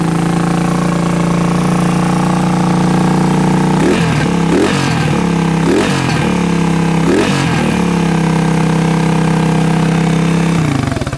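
A carbureted 2007 Suzuki DR200 motorcycle engine idles loudly close by, then gets about four quick throttle blips before settling back to a steady idle.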